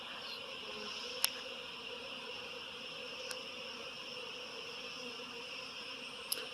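A faint, steady drone of a feral honeybee colony taking over an abandoned hive hangs in the background with several high tonal layers, broken by a few tiny sharp ticks.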